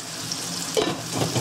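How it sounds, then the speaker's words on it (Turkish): Food sizzles and crackles in a frying pan at home, a steady close hiss with a few louder pops and stirring scrapes, no talking. "Bir de tırtık kızartıyorum."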